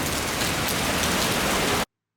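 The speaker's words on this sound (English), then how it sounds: "there was a substantial uptick in the rain and the wind as the storm approached" Heavy rain pours down steadily as a tornado storm approaches, a dense, loud and even hiss with no voices, cutting off abruptly near the end.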